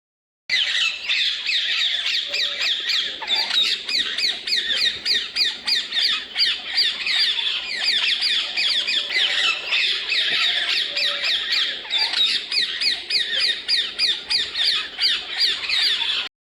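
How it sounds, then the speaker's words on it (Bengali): A colourful parrot squawks loudly and repeatedly in rapid harsh bursts, a near and nearly continuous run of shrill calls with no talking. "এটা হলো রঙিন তোতা পাখি, সে তার রঙিন পালক দিয়ে সবাইকে মুগ্ধ করে।"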